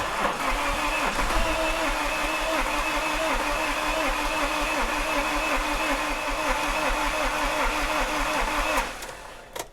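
An Iveco Daily recovery truck's diesel engine cranks steadily for about nine seconds, a rhythmic mechanical churn that fails to catch, then cuts off abruptly near the end.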